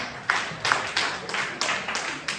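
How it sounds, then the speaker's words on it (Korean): Audience in a youth church service clapping hands together in unison, a steady rhythm of about seven sharp claps, moderately loud in a room. "박수"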